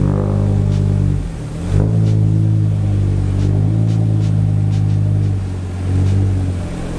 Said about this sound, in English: the ST just making its way onto the dyno, and we're going to run this thing up